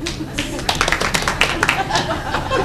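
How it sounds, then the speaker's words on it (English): Scattered clapping from a small comedy club audience at Carolines rises in short bursts, mixed with chatter and light laughter, fairly close and moderately loud. "Applause."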